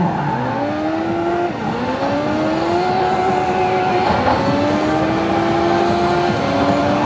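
Arcade motorcycle racing game with a twist-grip throttle: a steady synthesized engine drone rises and falls in pitch through repeated gear shifts, with a brief tire skid near the middle, loud and continuous throughout.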